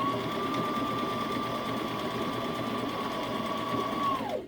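A sewing machine top stitches a wool diaper cover in one steady, continuous high whir that holds for about four seconds, then winds down and stops. The sound is close and there is no talking.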